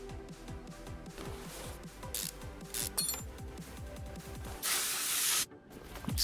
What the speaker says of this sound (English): Spray some stuff on it.